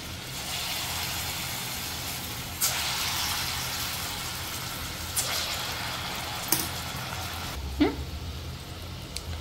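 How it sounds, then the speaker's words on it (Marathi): Spoonfuls of bhaji batter fry in hot oil as fritters, giving a steady, fairly faint hiss with a few sharper pops and crackles, and no one talking. "हे असे गोल्डन ब्राउन होईपर्यंत आपल्याला तळून घ्यायचे"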